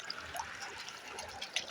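Jivamrut, a liquid farm input, pouring out with irrigation water pumped into a field, a steady soft trickling and gurgling flow with no voices.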